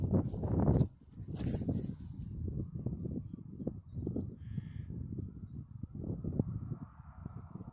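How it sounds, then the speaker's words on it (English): Carrion crows cawing outdoors, a few harsh distant calls over a near, continuous rustling and thudding of movement, with scattered clicks, fairly faint overall. "I think those are carrion crows"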